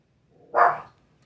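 A single short dog bark, sharp and fairly close, standing alone against a quiet background.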